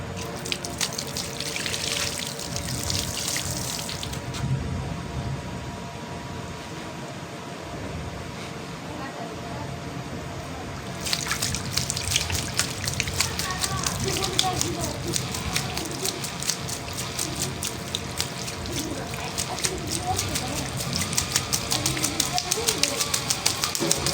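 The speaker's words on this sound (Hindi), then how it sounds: "डालते हैं इसके ऊपर बकेट से पानी।" A bucket of water is poured over a homemade water-driven generator, producing a continuous rushing, splashing flow that swells louder partway through, with a person speaking over it.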